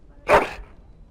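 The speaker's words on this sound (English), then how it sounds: "That is a wonderful dog." A noble-looking dog in the medieval fantasy game Dragon Age Origins gives a single sharp, close bark that fades quickly into quiet.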